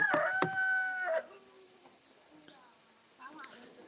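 A rooster crows loudly and close by in a Nigerian village, one long call lasting about a second. Quiet background and a person talking softly follow it.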